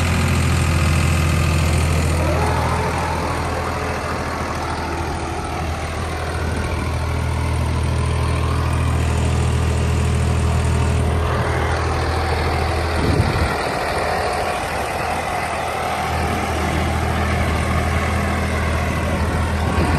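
A New Holland tractor's diesel engine runs close and loud for the whole stretch as a steady low rumble, with slight swells and one brief knock partway through.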